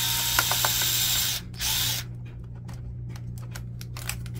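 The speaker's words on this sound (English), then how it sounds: "Now we're just gonna remove the screws." Screws come out of a Canon Pixma MX870 printer during disassembly, heard as a burst of hissing whir followed by a series of small, close ratcheting clicks over a low hum.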